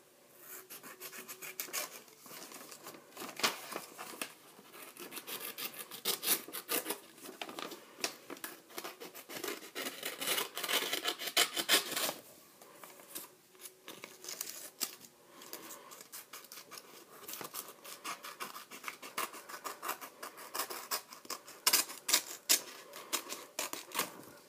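Scissors snipping through folded origami paper for a rhino, with many crisp close cuts in bursts, separated by paper rustling and brief pauses.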